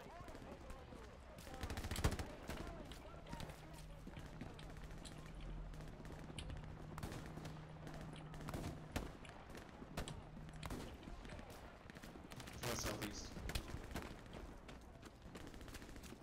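Machine gun fire rattles in Hell Let Loose during a Stalingrad defense battle, rapid repeated shots mixed with other distant gunfire and explosions, under voices talking throughout.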